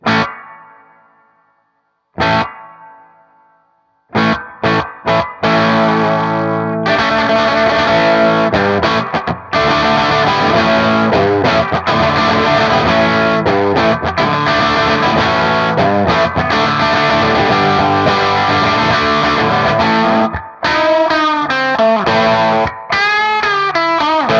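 Electric guitar notes and chords run through a Pigtronix Cosmosis reverb pedal, loud and sustained, with long shimmering tails after a few sparse opening plucks.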